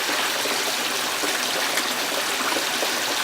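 Water rushes steadily through a gold prospecting sluice box as wet gravel is poured in, a dense, continuous close wash with faint gritty trickling and no voices.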